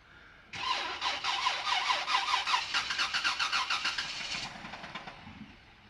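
A car engine cranks briefly and catches, then revs unevenly with a pulsing roar before settling down and fading to a quieter idle.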